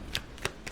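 Tarot cards being shuffled by hand, three quick crisp riffling bursts in under a second, close and clear with no talk.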